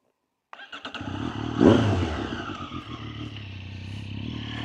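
A Triumph Street Triple 765RS motorcycle rides on the street after a valve retainer recall, its engine cutting in abruptly and swelling into a loud rev before settling into a steady nearby drone.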